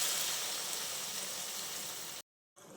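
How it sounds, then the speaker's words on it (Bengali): Water pours into a pan of spice-fried potatoes and cauliflower, a loud, steady rushing hiss that cuts off abruptly near the end and then briefly resumes. "এবার আমি এর মধ্যে পরিমাণ মতো জল দিয়ে দিচ্ছি।"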